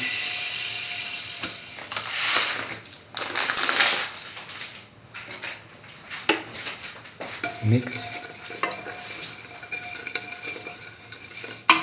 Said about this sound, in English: Mix the sugar thoroughly with the milk until it's dissolved fully.